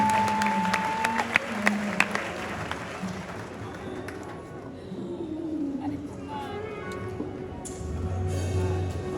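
A church congregation claps and cheers in praise of God during a testimony service, broad sustained applause with scattered sharper claps and voices mixed in, fairly loud and filling the room for several seconds.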